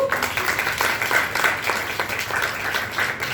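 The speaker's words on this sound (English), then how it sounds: "can we give them a round of applause?" Audience applause at a business talk on growth hacking for small businesses, a steady wash of many hands clapping at moderate volume with no voices over it.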